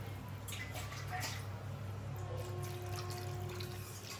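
Water pours into a pot of chicken and drumstick curry, a soft continuous splashing and trickling at close range over a low steady hum.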